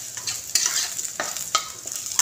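Whole green chillies, about four of them, frying in oil in a pan for a samosa potato filling, with a soft sizzle and repeated scraping stir strokes close by, no talking.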